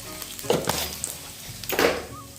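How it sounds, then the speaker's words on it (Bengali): Cumin seeds and onion frying in oil, a close steady sizzle broken by two louder bursts of stirring and scraping in the pan, with no voices. "জিরে দিলাম, পেঁয়াজটাও দিয়ে দিয়েছি। তো পেঁয়াজটা একটু লাল করে ভেজে নিই"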